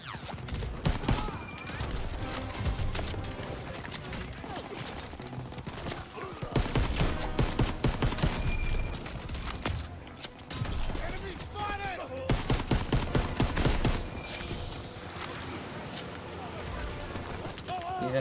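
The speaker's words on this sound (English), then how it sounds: "Everyone open fire!" Dense, sustained gunfire from a World War II battle in Call of Duty WWII: rapid bursts and overlapping shots roll on continuously and loudly, with explosive surges along the way and shouted voices over the din.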